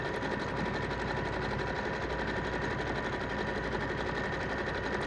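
A domestic sewing machine runs steadily on fabric, sewing a wide zigzag stitch set to width 5.5 with a fast, even mechanical chatter that lasts throughout, close and loud, with no talk over it.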